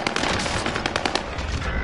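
Rapid bursts of automatic gunfire in a PS4 battle royale video game, dense and continuous throughout, with rattling shots layered over one another and no talk.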